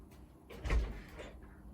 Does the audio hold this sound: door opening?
yes